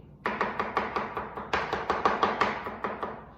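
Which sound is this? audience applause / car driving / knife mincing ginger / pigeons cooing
knife mincing ginger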